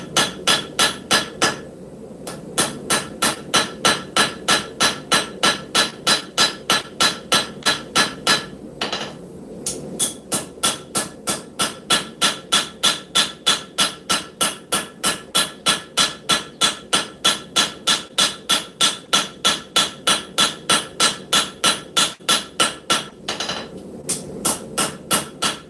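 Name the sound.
cross peen hammer forging scrap steel knife heel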